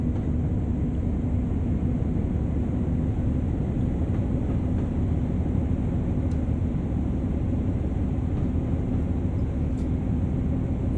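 A train in Train Sim World on the West Somerset Railway pulls away at maximum throttle, a steady, loud low rumble and drone holding level throughout with no talk.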